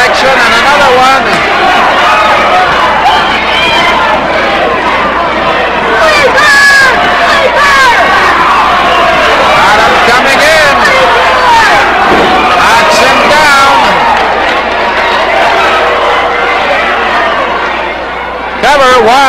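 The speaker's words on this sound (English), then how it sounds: "The crowd in a real uproar." A loud wrestling crowd roars and yells continuously throughout, dense with cheering and shouting, with occasional sharp slams cutting through the din.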